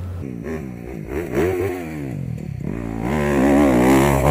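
Motocross dirt bike ridden fast into the whoops after the Dragon's Back right-hander. The engine revs rise and fall sharply as the bike hits the bumps, then it climbs to a sustained loud, raspy pitch.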